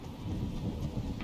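Low rumbling storm wind and thunder-like roar from the closing storm in the video game Fortnite, a steady dense wash without speech.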